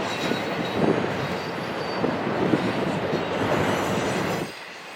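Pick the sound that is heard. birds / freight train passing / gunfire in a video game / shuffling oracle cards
freight train passing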